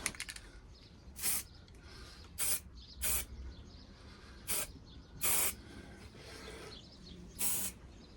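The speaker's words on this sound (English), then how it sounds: "Just going to spray some primer on these parts just to protect them." Primer sprayed from an aerosol can onto parts of a 1964 Francis Barnett motorcycle in a workshop: six short hissing bursts, each about a second or less, separated by quiet pauses, close to the listener.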